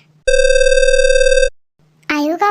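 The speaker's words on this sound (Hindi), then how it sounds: "आयु का फोन" A telephone rings with one loud, steady electronic tone lasting just over a second, followed by a pause and then a voice speaking.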